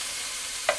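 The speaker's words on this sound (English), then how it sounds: "So I have to go back and see what's happening here with my sizzle" Food sizzles in a hot pan with a steady hiss, and a small clink sounds right at the end.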